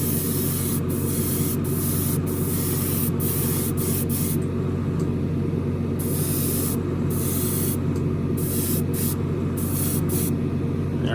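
An airbrush or spray can hisses paint onto the front splitter of a Revell 1971 Boss 351 Mustang model car, a loud close continuous spray broken by several short pauses.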